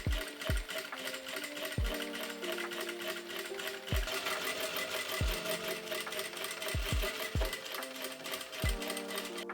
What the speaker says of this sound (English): And now we need to sew all the pieces in the exact same way, but without this basting stitches at the top.